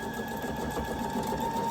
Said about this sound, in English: y'all do know I leave my pins in while I sew over them